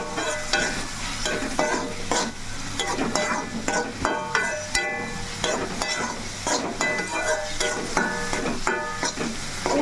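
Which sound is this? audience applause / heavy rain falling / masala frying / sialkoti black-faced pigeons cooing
masala frying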